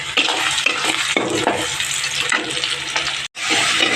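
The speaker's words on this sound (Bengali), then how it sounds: "এই তেলে জিরে ফোড়ন দিয়ে আমি পেঁয়াজটা হালকা ভেজে নিচ্ছি" Onion fries in hot oil tempered with cumin seeds, giving a loud, close, continuous sizzle, with stirring scrapes and a brief break near the end.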